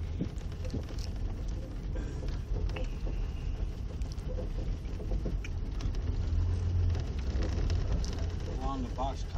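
Steady rumbling drone of a 1950 Chevy Styleline driving along a road, with constant engine and road noise under occasional talking inside the car.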